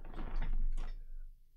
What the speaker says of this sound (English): Just opening my doors.